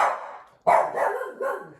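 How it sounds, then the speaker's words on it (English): Dog barking in a home kitchen during chicken drumstick canning with a Nesco canner, three or four close, moderately loud barks and yips in quick succession with a short pause before the second. "So Finn, he likes bone broth, as you can tell. So woof woof woof."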